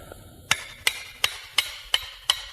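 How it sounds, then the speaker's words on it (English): Six sharp, evenly spaced hammer blows strike the end of a hatchet handle, each a crisp close metallic-wooden knock with a short ring, with no talk in between. "So you first of all take the hammer, you hit the end like that,"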